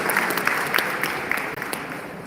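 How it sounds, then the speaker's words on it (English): Applause at a Veterans Day event, a short round of clapping from a gathered crowd, brisk and fairly loud with a few sharper individual claps standing out. "So please give a round of applause to that."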